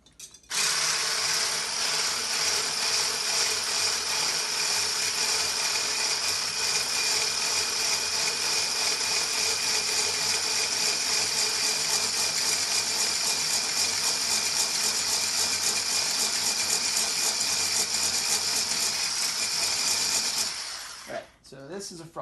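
A motorized mixer froths a milk and egg pancake batter, a loud, steady high-pitched whir running unbroken for about twenty seconds before cutting off.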